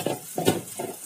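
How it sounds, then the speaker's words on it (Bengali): Crushed lentil dumplings stirred into browned onions in a frying pan, giving close, rhythmic scraping stirs over a soft sizzle, repeated in short bursts. "পেঁয়াজটা বাদামি হয়ে এসেছে, এখন আমি গুঁড়ো করা বড়িগুলো দিয়ে দেবো"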